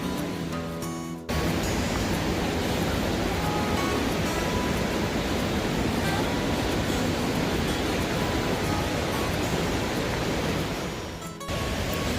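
Spruce Flats Falls in the Smoky Mountains, running after flooding, makes a loud, unbroken broadband rush of falling water heard from nearby, steady throughout apart from short gaps at the start and end.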